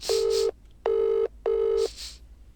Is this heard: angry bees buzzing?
no